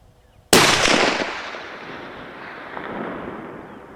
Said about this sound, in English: Go ahead and shoot another one.